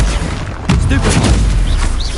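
A Stupefy spell cast during combat in Hogwarts Legacy, a loud close burst followed by crackling, booming impact noise that sustains through the rest of the moment, with no voices.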